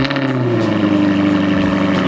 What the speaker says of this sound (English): The Jaguar has kind of that roar when started up